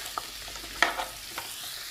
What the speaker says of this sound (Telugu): ఇవన్నీ కలిపి కొంచెంసేపు బాగా వేగిస్తాను అనమాట.